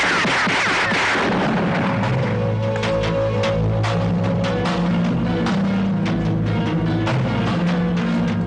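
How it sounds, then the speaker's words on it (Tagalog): Gunfire and heavy booming blasts in a 1991 Filipino action film, a dense run of sharp cracks and rumbling explosions layered over a tense music bed, loud and continuous with no speech. "Ano na putok na yun?"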